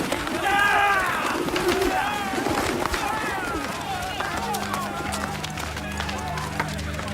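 Pigeons coo and flap in a crowded marketplace scene as money changers' tables are overturned and the birds are driven out, busy and close, with a low droning hum entering near the end.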